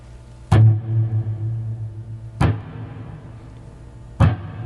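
Distorted electric guitar picking 16th notes at a slow tempo: three sharp, loud accented pick attacks land about two seconds apart, each ringing into a low sustained tone, with quieter picking between them.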